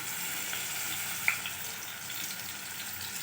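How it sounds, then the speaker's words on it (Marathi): Cumin and mustard seeds crackle in hot oil with garlic, making a soft, steady sizzle with a single sharp pop partway through and no talking. "तर इथे तेल गरम करून ठेवलेलं आहे मी आणि आता इथे घालायची आहे जिरे आणि मोहरी आणि यामध्ये घालायचं आहे लसूण"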